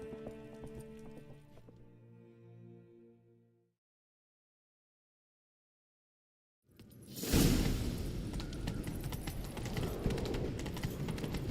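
Horse hooves gallop rapidly in a fast, loud clip-clop rhythm with rushing movement noise during a chase in the video game The Witcher 3, following a musical passage and a stretch of silence.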